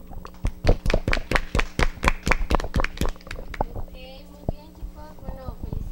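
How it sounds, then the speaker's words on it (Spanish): A small audience claps after a staged school play reading, with sharp, distinct claps for about three seconds that thin to a few scattered ones while voices murmur nearby. "les pido un aplauso al bajarse el telón."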